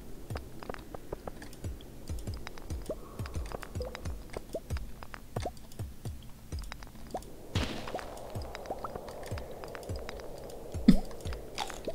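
Crunchy chewing and munching of algae in the video game Stardew Valley, a steady run of short crisp bites repeating for many seconds, close and fairly quiet, with a slightly louder crunch near the end.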